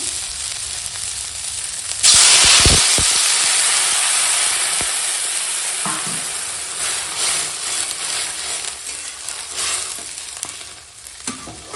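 Water poured into spices sautéed in a pan bursts into a loud, sudden hissing sizzle that gradually settles into a steady bubbling simmer, with a few utensil clinks and no talking.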